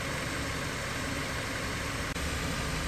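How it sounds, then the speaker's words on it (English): A 2013 Dodge Avenger with crankshaft position sensor trouble idles steadily. The engine gives off a close, continuous rumble with no change in speed, apart from a momentary dip in level. "I'm not getting it to mess up just sitting here idling"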